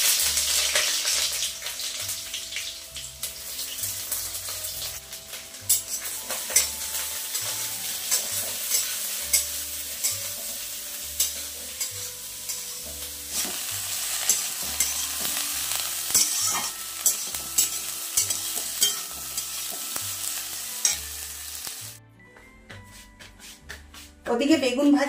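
Chopped eggplant and onion fry in a kadai with a steady sizzle. Rhythmic stirring scrapes and knocks repeat throughout, a voice talks over the cooking, and the sound thins out near the end.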